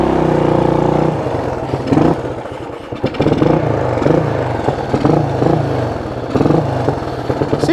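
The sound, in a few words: Honda XL175 motorcycle engine idling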